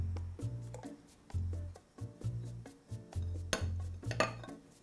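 A metal spoon stirs pasta salad ingredients dressed with oil in a bowl, giving repeated close scraping and clinking strokes in an uneven rhythm over several seconds.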